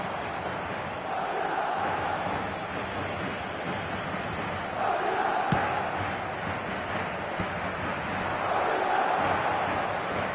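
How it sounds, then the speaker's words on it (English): A football stadium crowd reacts during a Barcelona match as a steady, far-off roar that surges in a few swells, with wind-like noise throughout. "the crowd are reacting to that now."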